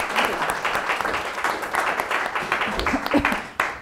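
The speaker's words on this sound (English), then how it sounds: "Let's give our panelists a round of applause." Audience applause for the panelists at the close of a talk on digital space, a steady patter of clapping throughout that thins near the end, with some voices mixed in.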